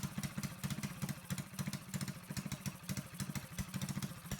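A Predator 224 mini bike engine fitted with a Mikuni VM22 clone carburetor runs steadily with a rapid, even chugging pulse and mechanical clatter, close and continuous, with no talk.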